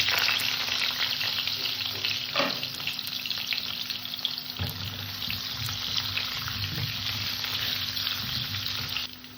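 Potatoes fry in hot oil tempered with black seeds, giving a loud, steady, close sizzle with a few soft stirring knocks.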